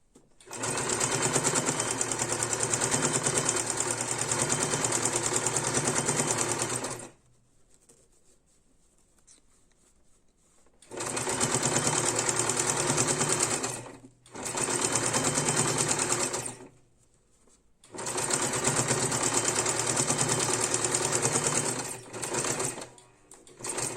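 Sewing machine stitching a pieced patchwork quilt (Kazakh құрақ) runs in three long, steady bursts with short pauses of quiet between them, loud and close with no talking.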